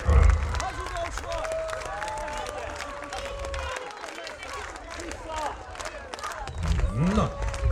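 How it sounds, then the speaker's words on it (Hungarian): Outdoor festival crowd at the Kétpó cooking festival clapping for the mayor in front of the stage, a dense, continuous patter of many hands with scattered cheers that swells again near the end. "Polgármester úrnak egy tapsot, köszönöm szépen"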